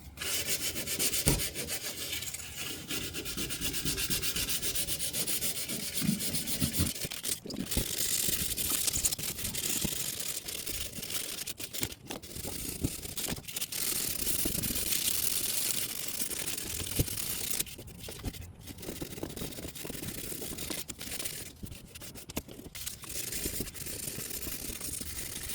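A plastic fender flare is sanded by hand with 1000-grit sandpaper. Close, steady, hissy scraping runs almost without a break, with brief pauses between strokes.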